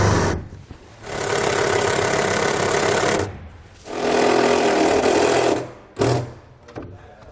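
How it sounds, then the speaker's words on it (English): A power driver sinks a self-tapping screw into a steel trailer fender on a tandem-axle teardrop trailer, loud buzzing whirs in three bursts separated by short pauses, close to the listener with no talking. "we're just going to line up our self-tapper onto our fender and then just run it right in"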